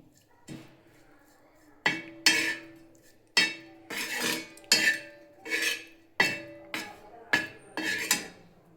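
Egg batter for a masala omelette, with salt, chili powder and ginger-garlic paste, beaten with a utensil against a bowl in a series of about nine loud, close clinking, scraping strokes.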